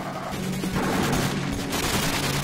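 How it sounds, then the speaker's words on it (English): An AK rifle fires continuously in Call of Duty 4, a dense, loud burst of automatic gunfire that fills the whole short moment without pause. "Let's try the AK."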